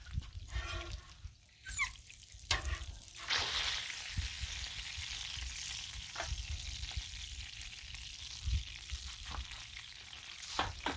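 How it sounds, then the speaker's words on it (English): Steady crackling sizzle of bacon frying on a hot griddle pan, with occasional pops and clatters of utensils, continuous and close, no talking. "So the bacon's nice and crispy. It's hot. It will also continue to crisp in the pan."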